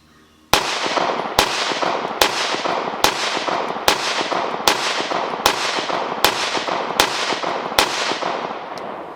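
Ten sharp, evenly spaced gunshots from a Bul Armory Tac Pro double-stack 1911 (2011-style) pistol crack out close and loud, one roughly every second, with no voices between them.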